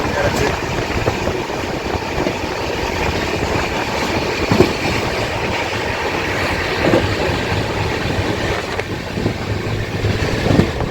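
The Prasanti Express passenger train runs steadily on its rails with a continuous rumble and faint clickety-clack from inside the carriage, while people talk underneath.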